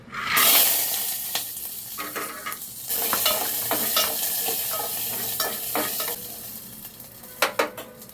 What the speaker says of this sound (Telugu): సో ప్రస్తుతానికి అయితే ఇవి రెండు మనం ఫ్రై చేసుకోవాలి